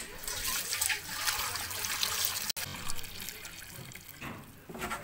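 Steady rush of running water from a tap filling a metal pot, continuous and fairly close, with a brief cut midway and no talking.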